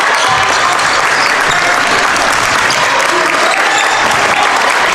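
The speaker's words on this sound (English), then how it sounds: "Crowd getting into it." A crowd at a high school boys' basketball game, Thomas Jefferson against Albert Gallatin, applauds and cheers in a dense, loud, unbroken wash of clapping that lasts throughout.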